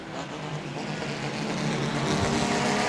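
Race cars roar on an oval track at Auburndale during a Mod Mini feature, a dense, continuous engine drone that swells slightly as the pack approaches.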